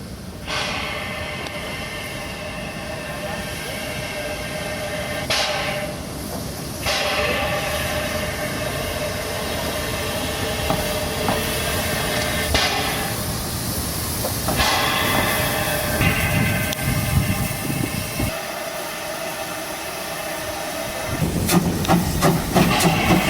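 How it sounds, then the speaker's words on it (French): Steam locomotives manoeuvre in Saxony while preparing return trains, with long loud bursts of hissing steam, rhythmic chuffing and metallic rail clanks, close by and continuous. "nous profitons de toutes les manœuvres à vapeur effectuées pour préparer les prochains trains du retour"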